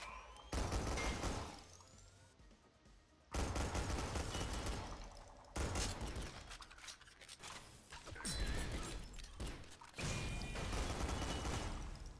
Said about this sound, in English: I'm just going to sort of blind fire into there